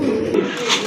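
Large domestic pigeons cooing close by in a loft, a low continuous burbling coo with soft wing and background noise, no talk.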